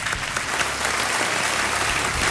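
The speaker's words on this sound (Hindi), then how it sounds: "तालियों के साथ इनका स्वागत।" A studio audience on a televised quiz show breaks into loud, sustained applause, many hands clapping densely and evenly from start to finish with no speech over it.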